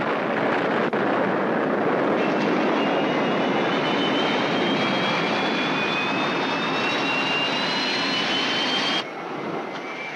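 Fictional spacecraft engines at full power during ignition and takeoff in a 1970s science-fiction series, a loud continuous roaring rumble with a rising whine, cutting down abruptly near the end.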